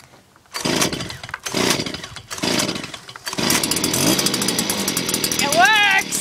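A Stihl leaf blower is cold started with several short pull-cord bursts of engine sputter that catch into a loud, rough, rising two-stroke run, with a voice speaking over it.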